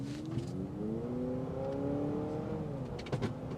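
A 2026 Honda CR-V TrailSport Hybrid accelerates hard, its engine note rising smoothly in pitch as it revs, heard from inside the cabin with steady road noise and no talk.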